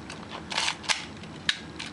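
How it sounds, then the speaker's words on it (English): A Canon Canonet QL17 rangefinder camera's shutter fires several times in a row, crisp metallic clicks spaced apart, close and clear with no talking. "The shutter works here as we step down on the"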